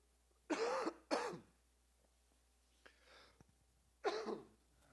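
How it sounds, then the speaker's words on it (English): Two harsh coughs in quick succession, then a faint rustle and a pause before another single cough, close and fairly loud in a quiet room. "Apologize for the coughing you're going to continue to hear tonight"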